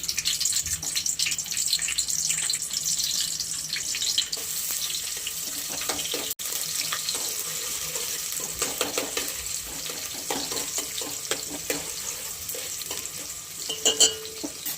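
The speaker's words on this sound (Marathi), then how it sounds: "फोडणीला कांदा टाकून देणार आहे आपण इथे" Continuous loud sizzling and crackling of chopped onion frying in oil for a tempering, with stirring scrapes throughout and a brief louder burst near the end.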